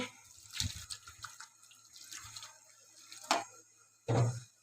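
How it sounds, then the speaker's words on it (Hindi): Water poured into a kadai on the stove while making chilli garlic sauce: faint scattered splashes and trickles, with a louder burst of pouring near the end, with no one talking. "इसमें 1 कप जितना पानी शामिल करेंगे।"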